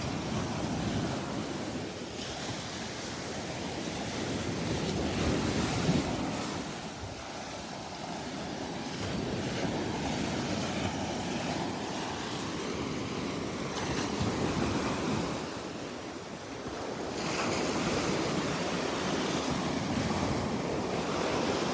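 Ocean waves wash continuously onto Delnor-Wiggins beach on a humid morning, with wind buffeting the microphone; the surf swells and eases in broad, loud surges with no voices.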